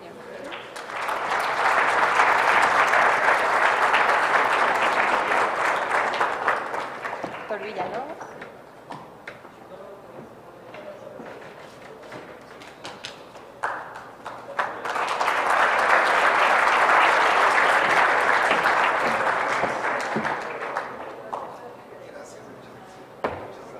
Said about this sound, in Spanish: Un aplauso a todos, por favor.